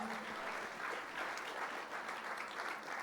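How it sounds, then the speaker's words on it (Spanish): A church congregation gives a steady applause of praise, continuous dense clapping heard from a distance and fairly faint, with no clear talk. "Fuerte ese aplauso de alabanza al Señor."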